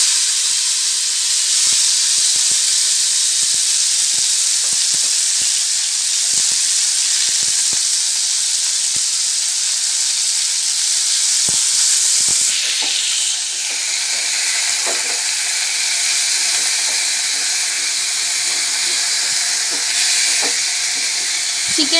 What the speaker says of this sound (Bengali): আমি চিকেনটা ছেড়ে দেবো তেলের মধ্যে।